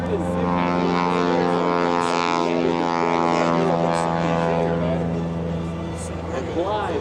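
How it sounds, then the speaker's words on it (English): A Boeing Super Stearman biplane flies past at an airshow, its radial engine a loud, steady harmonic drone that rises and falls in pitch as it passes, with an announcer talking over it. "flies the Boeing Super Stearman back towards Show Center"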